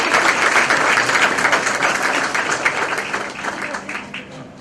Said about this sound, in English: I think Hirsch deserves an extended round of applause for all of his hard work